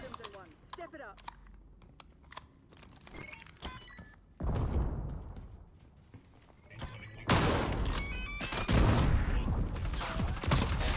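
A double-barrel Olympia shotgun fires in a video game, two heavy blasts a few seconds apart, each followed by a lingering rumble, with quieter clicks and game noise between them.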